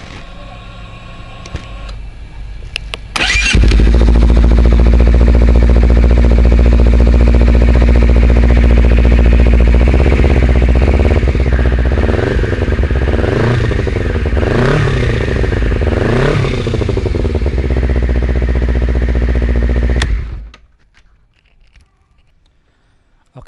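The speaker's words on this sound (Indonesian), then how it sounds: "Ini sekarang kita tes sound tanpa DB killer" A Honda CBR250RR engine idles loudly through a Prospeed Shark exhaust with the dB killer removed, then revs in several short blips before cutting off abruptly, leaving near silence.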